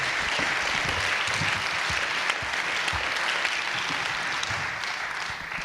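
A live audience claps warmly to welcome a guest onto a stage, with dense, steady applause from a sizable crowd filling the whole stretch and tapering only slightly at the close.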